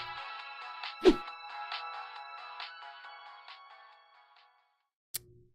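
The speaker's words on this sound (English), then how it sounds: "The piercing ringtone became more and more distant before it vanished completely." A mobile phone rings with a piercing, repeating electronic tone that pulses steadily and fades until it dies away, interrupted by a loud thump early on.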